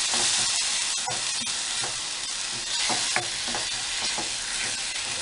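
Onion and dried chili paste sizzles in a hot frying pan while a spoon scrapes and stirs it in irregular strokes, a dense continuous hiss with close clinks and scrapes.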